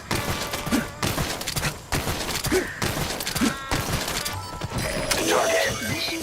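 Gunfire in Metal Gear Solid V, heard as a scattered series of muffled thumping shots and impacts spread across the stretch, mixed under ongoing talk and game sound.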